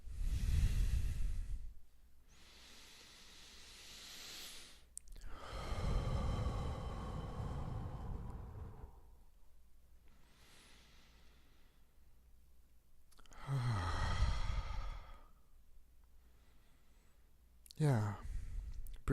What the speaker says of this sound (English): So, okay, another breath.